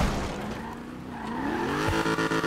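In a video game, a Nissan Silvia S15's engine drones loudly and rises in pitch as its tires squeal and skid, the sound steady and close throughout.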